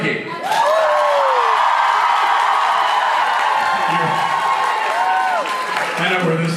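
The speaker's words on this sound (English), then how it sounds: "First up, by applause only" A convention audience breaks into sustained, loud applause and cheering for actor Jared Padalecki, with whoops and screams rising over steady clapping across the whole stretch.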